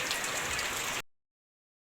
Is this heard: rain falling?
yes